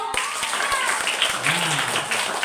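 Elementary schoolchildren at a Maulid Nabi gathering clap together, a scattered burst of hand claps with a few sharp individual claps, joined by children's chatter and a voice partway through.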